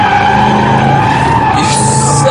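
Mercedes SLR, a heavy nearly 1,800-kilo car, drifting on a track with a loud sustained tyre squeal over a steady engine drone, close and continuous.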